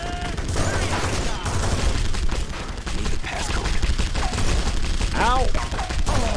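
Rapid turret gunfire in The Punisher video game, dense bursts of shots and explosions running nearly nonstop, with a voice speaking briefly over the shooting.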